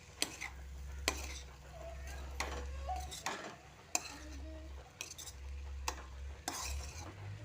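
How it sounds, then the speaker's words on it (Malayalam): Cooked rice is stirred into tomato masala in a pan, with repeated spoon scrapes and light clinks against the metal coming in an uneven rhythm, close by and fairly quiet. "ഇനി നമുക്ക് ചോറിട്ട് കൊടുക്കാം. നന്നായിട്ട് മിക്സാക്കി കൊടുക്കാം."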